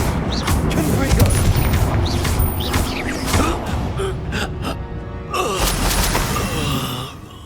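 A Confringo fire spell blasts in the video game Hogwarts Legacy, with a bursting, crackling explosion amid dense game effects and a loud, busy mix of battle sounds.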